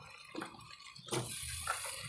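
A glass of water splashes into a pan of oil-fried cauliflower, a short gush of pouring liquid after a couple of faint clinks, close and fairly loud.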